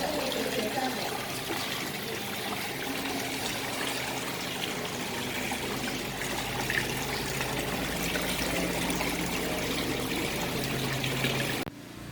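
Water pours and trickles steadily through a waterfall-themed aquascape, a continuous close splashing stream with faint background voices, cutting off abruptly at the end.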